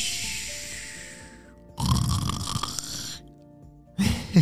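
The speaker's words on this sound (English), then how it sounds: "Have you ever heard a fish snore?" Loud, rasping snores from a cartoon lionfish in a children's animal story come in long drawn breaths with gaps between them, close by and rhythmic, over a faint steady background hum.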